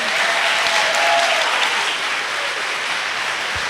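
Audience applause at a school merit gala, loud sustained clapping from a large crowd filling the room steadily from start to finish.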